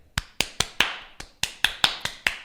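Ten sharp, close hand claps made with stiff hands, evenly spaced and crisp, each ringing briefly before the next, in an otherwise quiet room.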